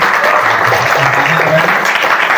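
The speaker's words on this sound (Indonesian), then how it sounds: "saya mengajak kita untuk bertepuk tangan, memberikan apresiasi untuk kita semua. Tepuk tangan." An audience applauds at a Christmas celebration in a villa venue, a dense, loud and continuous patter of clapping that fills the whole moment, with faint voices mixed beneath it.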